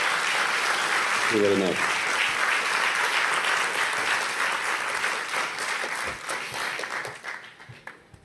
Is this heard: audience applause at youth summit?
yes